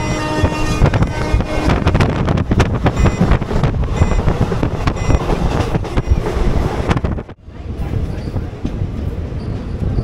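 Paharia Express with ICF coaches running at about 100 km/h on the Digha line, a loud, continuous roar of wheels, rattling and wind buffeting, with one brief dip before the roar resumes.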